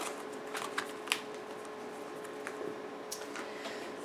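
Apple stickers and a microfiber cloth from a refurbished MacBook Pro are tucked back into their packaging, making close scattered paper rustles and light clicks with no talking.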